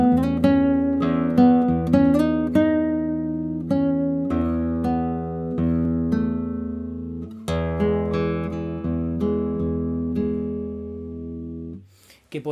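Classical guitar strung with Assemble nylon strings, played melodically on the third string, with plucked notes ringing one after another in an even phrase, close and fairly loud, before a brief dip near the end.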